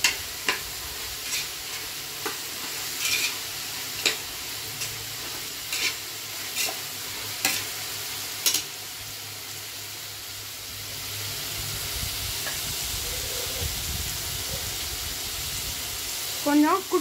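Mint and coriander sautéed in a pan for vegetable biryani give a soft, continuous sizzle, with a spoon scraping and stirring at a regular rhythm and a voice briefly speaking near the end.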